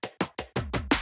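Electronic drum and bass drop fill programmed in FL Studio: six sharp, punchy drum hits in quick succession, each decaying before the next, with tonal body rising toward the final accented hit, loud and alone.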